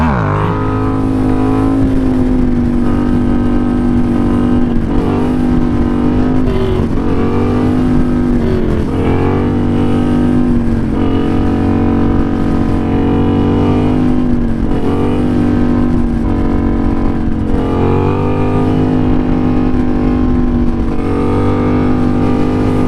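Yamaha FZ07 motorcycle engine held at steady throttle through a long wheelie, a loud continuous droning roar with slight rises and dips in pitch, heavy wind buffeting close to the rider, no voices.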